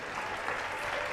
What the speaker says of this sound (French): Applaudissez William, s'il vous plaît, public adoré